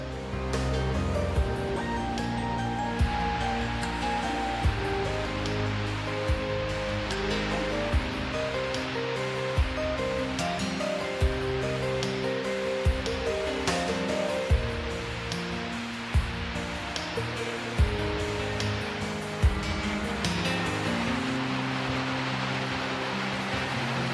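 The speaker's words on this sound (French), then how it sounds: "La plus impressionnante de ces cascades fait près de 30 mètres de large." Wide waterfall, about 30 metres across, tumbling over Icelandic basalt columns, giving a steady, dense roar of rushing water that holds close and loud throughout with no voices.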